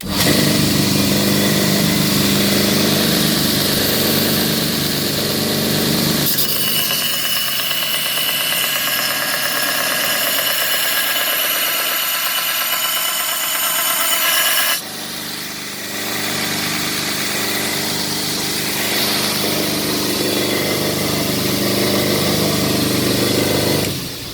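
A homemade 2x72 inch belt grinder with an MDF wheel runs loud and close, a continuous motor drone with a steady abrasive whir that shifts in tone midway, then returns, no talk.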